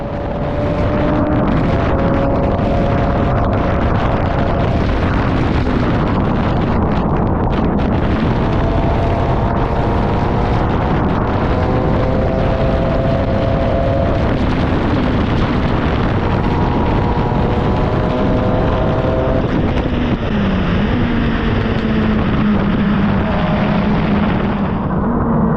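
An F1000 single-seater race car on a very wet Silverstone circuit in testing, its loud engine roaring steadily throughout with repeated rises and falls in pitch as it accelerates and shifts gears, under a constant wash of spray and wind noise.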